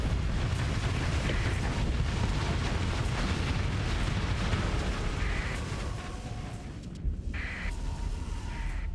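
A spaceship blows up during a Starsector space battle, heard as a long, heavy rumbling roar with crackling debris that fades after several seconds, followed by faint bright pops.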